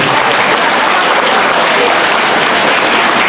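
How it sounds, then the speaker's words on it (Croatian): Audience applause for the women's singing group Neven from Leskovac at an evening folk heritage gathering in Trnovo, a dense steady clapping from a crowd filling the whole stretch, loud and close. "Pozdravimo ih aplauzom."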